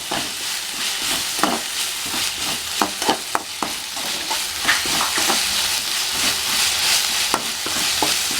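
Ginger-garlic paste and cumin sautéing in a hot pan: a steady, close sizzle throughout, broken by repeated sharp scrapes and clicks of a spatula stirring against the pan, with no talking.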